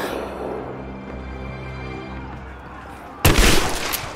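A sudden loud burst of gunfire from Rise of the Tomb Raider cuts in near the end, following a steady, droning background of game music.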